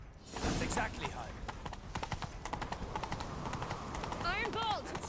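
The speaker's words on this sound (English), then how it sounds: "Grab a horse, we'll chase him down." Hooves clip-clop in a steady galloping rhythm as a horse runs in the video game The Witcher 3: Wild Hunt, with a whinny near the end and game voices talking over it.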